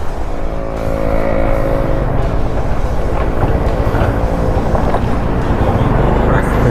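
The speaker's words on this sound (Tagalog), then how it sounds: "Ang sarap talaga dalhin ang motor na to." Honda RS 125 carburetor motorcycle riding along a road in General Santos City, its engine and wind noise a steady, loud, continuous drone throughout with no pauses.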